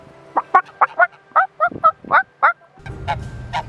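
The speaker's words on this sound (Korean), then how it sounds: "얘네 거위 같아." A goose honks in a rapid run of about nine loud, close, nasal calls, followed by softer honking over rumbling noise on a snowy Jeju farm.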